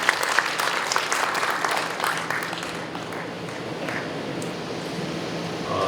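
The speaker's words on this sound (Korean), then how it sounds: "좋은 내용의 인사 말씀을 해주신 김이상 의장님께 다시 한번 인사 박수를 부탁드립니다" Audience applause at a Korean forum on subcontractor cooperation, a dense burst of clapping from a seated crowd that starts loud and gradually thins out over several seconds.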